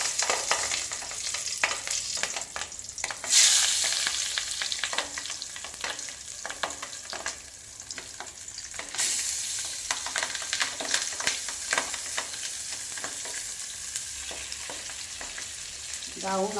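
Banana-leaf-wrapped pieces of rohu fish sizzle in hot oil in a kadai, a steady loud frying hiss with scattered spits and crackles and occasional stirring clinks.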